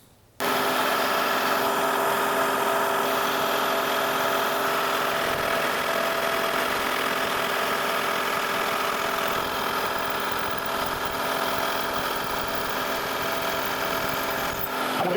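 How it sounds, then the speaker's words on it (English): A milling machine switches on with a sudden start, then runs continuously with a loud, steady motor whine and a mechanical hum at close range for the remainder, with no speech. "once I plug my mill in."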